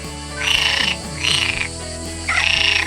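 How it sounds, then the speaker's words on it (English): Three loud, close frog croaks, each a raspy, buzzing call about half a second long, separated by short pauses over a steady low background hum. "The sounds of frogs, croaks, trills, clicks, are not just noise."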